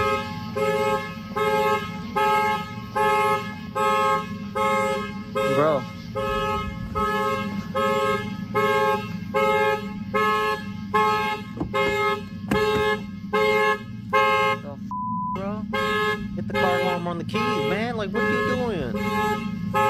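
A car alarm blares in steady repeating pulsed tones, loud and close, running through the whole stretch while startled people talk and react over it.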